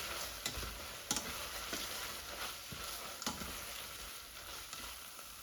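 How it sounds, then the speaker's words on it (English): Onions for French onion soup cook in a pot with a quiet, steady sizzle. Soft, irregular scraping and tapping from stirring break through every second or so, close but low in level, with no talking. "Every so often remove the lid and stir to stop the onions catching on the bottom."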